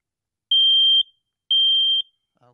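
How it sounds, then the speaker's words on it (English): A smoke detector alarm sounds two loud, piercing high beeps, each about half a second long with an even pause between them, close and clear in an otherwise silent room. "I'm going to turn off the alarm by hitting the mode key"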